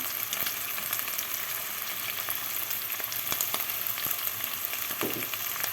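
Meat fries in about two tablespoons of oil, a steady dense sizzle running unbroken and fairly loud throughout with faint crackles, no talking.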